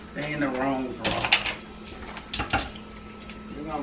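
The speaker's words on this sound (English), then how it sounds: "they in the wrong drawer" A kitchen drawer is pulled open and its contents rummaged through, giving a series of sharp clacks and clatters in quick bursts, with someone talking over and between them.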